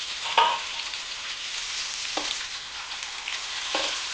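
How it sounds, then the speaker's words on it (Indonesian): Green and red tomatoes with curly red chilies and bird's eye chilies stir-fry in hot oil for a lamb garang asem, giving a continuous close sizzle with a few quick stirring scrapes. "kemudian kita cemplungkan tomat hijau dan tomat merah serta cabai keriting dan cabai rawitnya ya. Langsung aja kita tumis."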